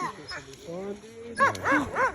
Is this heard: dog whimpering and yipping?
yes